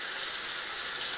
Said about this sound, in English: We're going to run in some water, which you can probably hear in the background